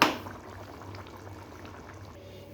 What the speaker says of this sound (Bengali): এবার আমি বাটিতে ঢেলে নেব।